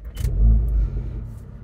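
Volkswagen Golf R Mk7.5 engine starting at the press of a button: a brief whir then a low rumbling catch and short rev that settles into a steady idle, close and loud.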